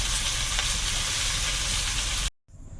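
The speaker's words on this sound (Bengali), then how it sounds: "কড়াইতে অল্প করে একটু তেল দিলাম কচুটা ভাজা হয়ে গেছে" Pieces of taro frying in a wok of oil give a loud, steady, dense sizzle that runs unbroken for a couple of seconds, then cuts out abruptly and returns as a faint hiss.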